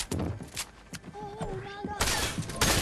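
Shotgun fire in the video game Fortnite: loud, sharp blasts stand out near the end, with a voice talking over the game sounds before them.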